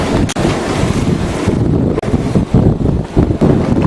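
Strong wind of about 42 knots buffets a Gemini catamaran under sail, a loud, continuous roar with gusty fluctuations and hard microphone buffeting, no voices.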